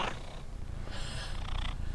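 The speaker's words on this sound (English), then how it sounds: "Richie, are you a happy cat?" Pet cat named Richie purring up close, a steady low rumble running throughout with a couple of slightly brighter breathy swells.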